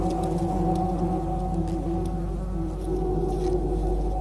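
Honeybees defending their hive swarm around an invading hornet, a dense, steady insect drone close by with no talk.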